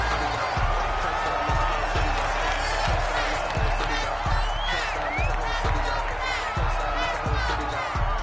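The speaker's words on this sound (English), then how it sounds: "This home crowd, they're happy with that call." A home crowd cheers in a PS4 American football video game, a steady wall of crowd noise with regular low thumps running underneath throughout.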